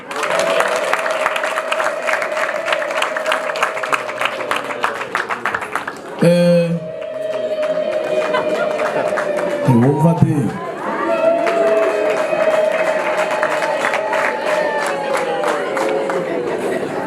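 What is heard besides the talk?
applause and ululation at cultural ceremony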